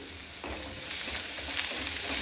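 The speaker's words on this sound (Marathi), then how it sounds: "हे थोडं मिडियम गॅसवरती फ्राय करून घ्यायचं" Tomato and green chilli chutney with salt frying on medium gas, a steady close sizzle with a few soft stirring scrapes, no voices.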